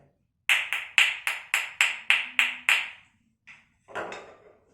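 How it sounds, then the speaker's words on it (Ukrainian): Wooden spoons clack together in a quick run of about nine dry, even taps, followed by a couple of softer knocks. "Тепер дерев'яні ложки."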